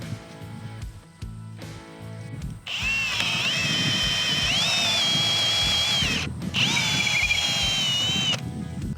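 Power drill boring a hole into a wooden horizontal brace post for an H brace on a high-tensile fence, a sustained whining motor that runs, stops briefly, then resumes, close and loud.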